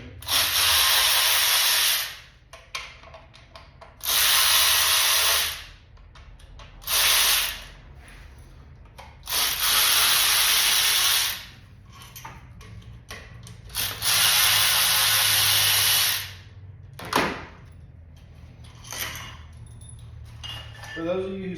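Air or power tools work on an engine during a teardown to pull the cylinder heads, firing in repeated loud hissing bursts of a couple of seconds each, separated by quieter pauses with clinks and handling noises.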